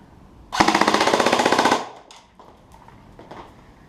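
An airsoft gun fires a rapid burst of roughly fifteen BBs at protective cosplay equipment, a loud, evenly spaced rattle lasting just over a second, followed by faint clatter and quiet.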